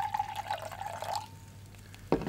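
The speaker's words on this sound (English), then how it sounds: "I am putting some water into this beaker." Water poured into a glass beaker, a thin ringing trickle that rises in pitch as the level climbs, then a short splash near the end, quiet and close with no voices.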